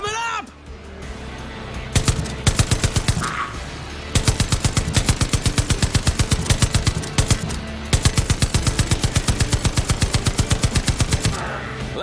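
Rapid bursts of machine gun fire ring out while zombies are shot in the video game Far Cry 5, several long sustained volleys over a dense, loud background.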